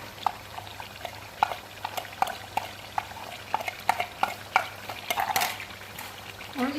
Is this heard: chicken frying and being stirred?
yes